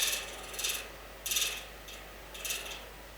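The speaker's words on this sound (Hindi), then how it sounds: "देख भैया पंखा सनक गया है," A malfunctioning ceiling fan rattles in a hall during a religious speech, giving faint, periodic mechanical clicking bursts about once a second over a steady hum, with no talking.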